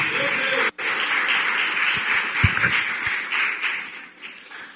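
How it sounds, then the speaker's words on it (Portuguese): A church congregation bursts into sustained applause, a dense wash of clapping that drops out for an instant near the start and then carries on steadily. "Dê uma salva de palmas ao Senhor por isso."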